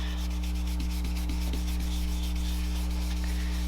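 Ink is rubbed onto card in a circular motion, a soft, rhythmic scrubbing that repeats steadily over a constant low electrical hum.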